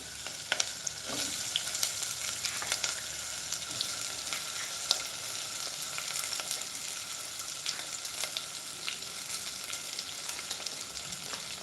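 Large chopped onion frying in oil with whole spices like nutmeg, cinnamon, cloves and bay leaf for gongura mutton biryani, a steady close crackling sizzle with scattered sharp pops throughout and no talking.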